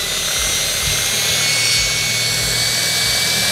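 An electric drill boring during electrical installation work, a steady whirring drone with faint low thumps underneath, heard alone without speech.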